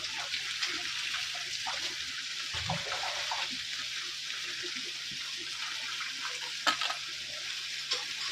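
Vegetables for a Bengali vegetarian shukto frying in a pan with freshly added leaves, giving a steady, even hiss with occasional soft stirring knocks, moderately loud and without talk.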